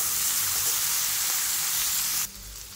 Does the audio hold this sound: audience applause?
no